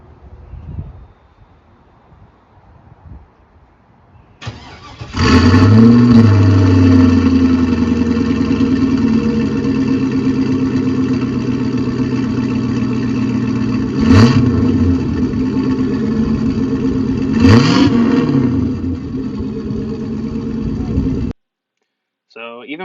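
Dodge Charger with an LS swap engine and factory mufflers starts up loud, then holds a steady rumbling idle with two sharp revs near the end, all close by and without talk over it.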